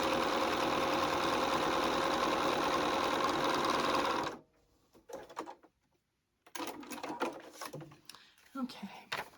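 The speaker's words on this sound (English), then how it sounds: "We're going to take our piece to the machine now again, and we're going to stitch all the way across." A sewing machine stitching fabric straight across a quilt block runs in one steady, close, continuous whir for about four seconds, then stops, and a person talks afterward.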